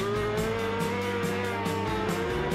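Several race cars brake into a corner at Donington Park during a 2018 ThundersportGB round, their engine notes overlapping and shifting in pitch as they pass close by.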